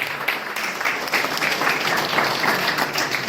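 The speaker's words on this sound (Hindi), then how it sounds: "जबरदस्त तालियां चाहिए।" A large crowd at an achievers' recognition event claps loudly and continuously, a dense, unbroken roar of applause held at a steady level throughout.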